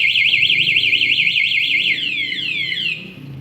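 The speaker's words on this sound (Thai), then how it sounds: "เรา ขยับ รถ เรา ก็จะ มี เสียงร้อง" Loud electronic motorcycle anti-theft alarm siren on a 2024 Honda Wave 125 LED, warbling rapidly up and down, then switching to a series of descending sweeping chirps before cutting off.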